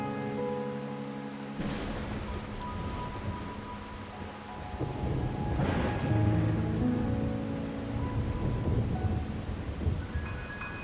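Steady heavy rain falls throughout a stormy night scene in the Wuthering Waves video game, with two deep rolling thunder rumbles, one early and one midway, and no voices.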